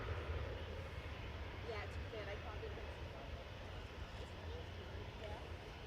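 A Ryanair airliner taxiing slowly at Manchester Airport, a distant, steady low engine rumble and hum throughout, with faint speech over it.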